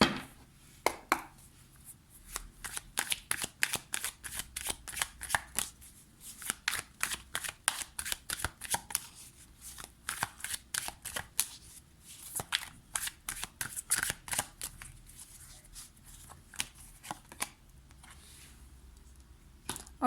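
Tarot cards being handled and shuffled, close and crisp, with rapid bursts of riffling clicks and soft slaps in uneven runs and short pauses, no talking.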